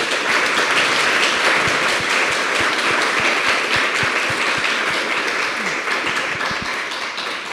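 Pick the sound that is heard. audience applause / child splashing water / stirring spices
audience applause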